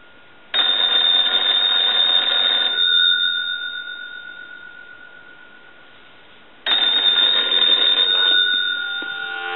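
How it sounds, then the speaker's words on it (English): A Kellogg wooden crank wall telephone, converted for line use, rings its bell under a line analyzer in two long, loud metallic bursts of about two and six seconds, with a fading ring between them. "use the analyzer to ring the telephone like you were getting a call"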